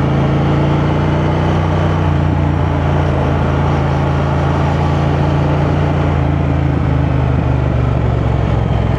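A Triumph Thruxton 1200cc motorcycle engine drones steadily and loudly throughout a test ride, with a constant low rumble and wind roar and no voices.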